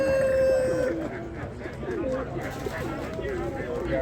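Birds coo and call amid a busy, noisy crowd at an outdoor bird market, with a steady whistle-like tone at the start and people talking throughout.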